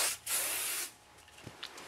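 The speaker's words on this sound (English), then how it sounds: "I'm gonna go ahead and spray it all with my heat tamer" Heat protectant spray and hairspray misted onto teased hair: a short aerosol burst, then a longer, loud, steady hiss lasting under a second, followed by faint handling noises.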